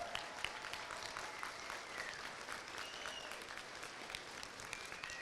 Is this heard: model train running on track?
no